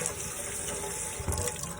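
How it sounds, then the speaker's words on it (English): Warm tap water streams steadily into a sink as microfiber cleaning cloths are soaked and wrung out, a continuous close rush with a brief splashy surge near the end and no talking. "I'm just using warm water. Wringing it out really good."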